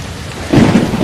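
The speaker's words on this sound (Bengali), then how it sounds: "বাইরে এখনো অনেক বৃষ্টি হচ্ছে" Heavy rain pours steadily in a cartoon-style sound effect, then a rolling rumble of thunder swells in about halfway through and stays loud over the rain to the end.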